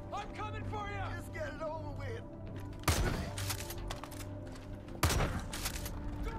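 Two sharp, loud shotgun blasts go off a couple of seconds apart in a Far Cry 5 fight against a group of enemies, with voices and game sounds heard before and between the shots.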